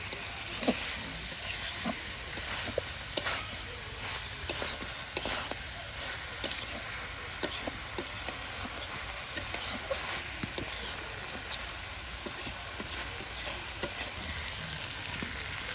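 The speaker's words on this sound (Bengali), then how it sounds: "একদম ভাজা ভাজা করে নেওয়া হচ্ছে আগে, হ্যাঁ। ভালো করে ভাজা নেওয়া লাগবে।" Duck meat fries in a pan with a steady, close sizzle while a utensil stirs it, making scattered scraping knocks throughout; nobody speaks.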